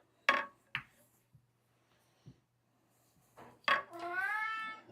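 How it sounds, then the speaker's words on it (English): A cat lets out one long, drawn-out meow near the end, close and clear, following a few sharp knocks during a pool practice session on a table with 4-inch pockets. "The cat meowed in my backstroke or my backswing."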